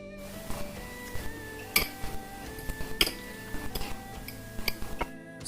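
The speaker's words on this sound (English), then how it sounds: "So I'm going to add it inside the vegetables and mix it effectively" Utensils scraping and clinking against a bowl while drained instant noodles are tossed into vegetables, a quiet irregular series of light taps and clicks spread across several seconds.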